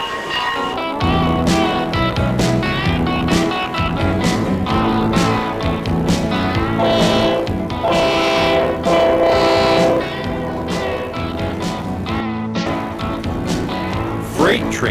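A freight train rumbles past close by, its horn sounding in long, loud blasts over the steady roar of the passing cars.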